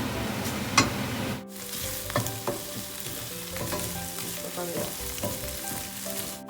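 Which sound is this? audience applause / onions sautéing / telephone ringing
onions sautéing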